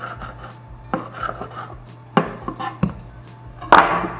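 A knife cuts into a loaf of soft whole wheat bread on a board, with several sharp, quiet chopping and sawing strokes spaced irregularly across a near-silent background.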